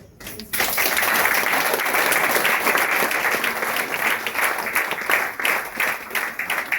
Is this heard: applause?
yes